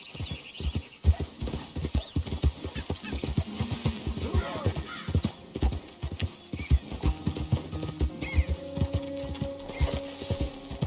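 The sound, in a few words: horse hooves in video game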